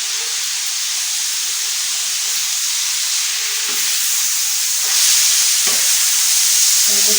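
Tomato and ground red chili paste tip into keema frying in a pan, raising a steady loud hiss and sizzle that swells partway through, with faint stirring scrapes and no talk.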